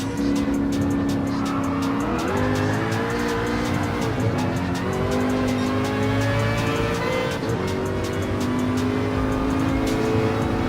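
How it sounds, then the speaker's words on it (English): Group C race car in Gran Turismo Sport braking hard, a loud continuous engine drone with sweeping pitch changes and tire squeal running throughout, close and unbroken with no talk. "Okay, let's hold the brakes."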